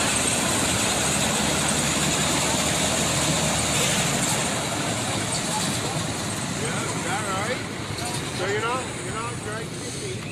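Vintage John Deere Cyclone snowmobile engine idles outdoors, a steady buzzing drone at moderate distance that fades slightly, with people talking nearby over it.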